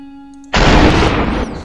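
A single sharp, heavy gunshot from the video game SUPERHOT bursts in after a quiet tonal hum, then rings out as a broad, loud roar that tails off over about a second.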